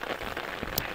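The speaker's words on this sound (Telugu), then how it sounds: "వాన చూడండి ఎలా పడుతుందో" Heavy rain pours down over a muddy clay track, making a dense, even hiss of countless drops. It is steady and moderately loud for about a second, with no voices.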